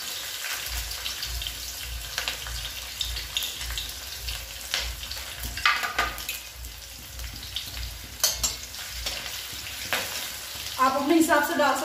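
Green chillies dropped into hot oil for homemade noodles hiss and sizzle steadily throughout, with clattering and stirring sounds in a home kitchen, and a brief burst of water near the end.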